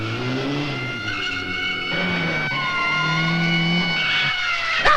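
A car braking hard in an old French crime film, with a loud, sustained tire squeal and skidding whine over the engine noise, ending in a sharp bump.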